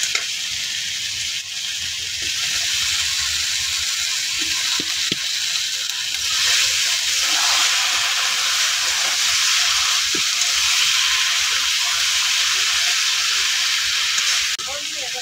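Eggplant frying in a wok gives a loud, steady hiss and sizzle that fills the whole stretch, with faint scraping stirs and a little background noise.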